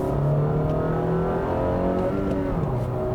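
The 1.5-liter four-cylinder engine of a 2018 Honda Fit Sport with a six-speed manual revs and hums steadily, its pitch rising and falling with throttle inputs.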